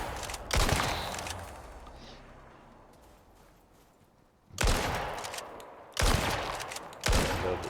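Gunfire from a shooting sequence in a video game comes in loud, close bursts, one early volley followed by three more bursts near the end after a quieter stretch.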